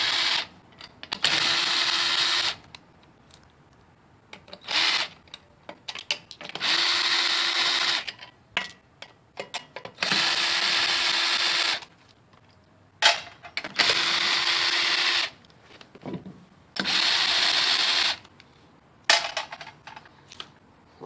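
An impact tool zips car wheel lug nuts off a GM vehicle in repeated loud bursts of about two seconds, separated by quiet gaps with small clanks.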